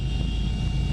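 Emergency medical helicopter on a patient pickup in the northern region, a steady loud rotor and engine drone with a constant low rumble and a whine held throughout, close by and without voices.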